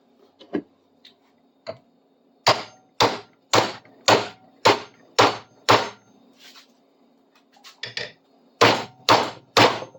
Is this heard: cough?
no